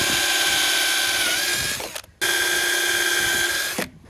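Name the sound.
driving new screws into cumaru deck boards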